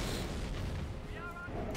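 Heavy artillery barrage and mortar half-track fire in the strategy game Company of Heroes: a dense, continuous roll of booming blasts filling the whole moment, loud and close, with a commentator talking over it.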